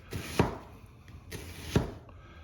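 A knife cuts an onion into small slices on a board, with a few quiet, sharp chops spaced apart and no talk.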